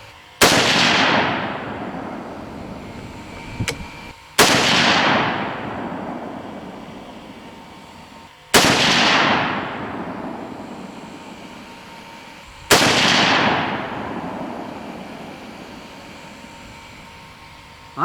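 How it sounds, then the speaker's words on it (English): Four loud .30-06 rifle shots with 150-grain Hornady SST and 125-grain Speer TNT loads, spaced about four seconds apart outdoors, each a sharp crack with a long rolling echo, plus a fifth starting at the very end. "Shooting back at the same target again"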